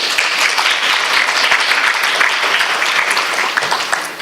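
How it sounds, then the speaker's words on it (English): A conference audience claps for a panel after a talk on AI in publishing, producing a brief, dense burst of applause that holds steady and fades slightly at the end. "Will you applaud the panel, please?"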